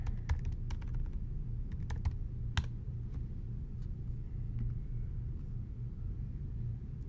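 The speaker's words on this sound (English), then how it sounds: "So we're going to click the box, start typing." Someone types on a computer keyboard in irregular bursts of crisp, close key clicks over a low, steady rumble.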